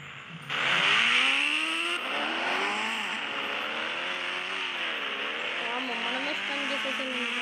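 A Pulsar motorbike in a video game revs up sharply, then holds a buzzing engine drone whose pitch rises and dips with throttle changes, steady and close.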